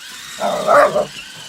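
Dogs bark and growl at a Lionel Mega Tracks corkscrew toy train, a close, loud flurry of barks lasting under a second over a constant low running hum.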